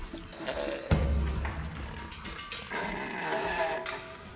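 A large male animal, contesting dominance with a smaller rival male, lets out a deep, rough growl that starts abruptly and rumbles on under running water and ambient noise.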